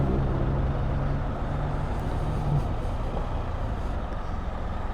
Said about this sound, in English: what is with the traffic today?